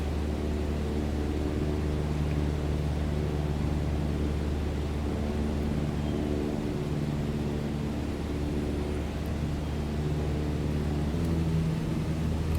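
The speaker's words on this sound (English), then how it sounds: "We'll lose the power a little bit, and the RPM will go down." Steady, loud propeller-engine drone from an aircraft in Microsoft Flight Simulator 2020 as power is eased back, a continuous hum with layered tones running throughout and no voices.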